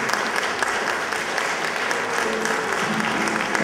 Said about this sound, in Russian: ваши аплодисменты будут тому подтверждением